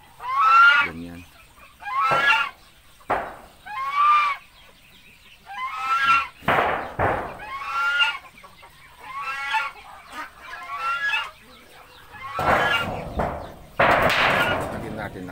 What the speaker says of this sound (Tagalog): May bantay na naman na ganso.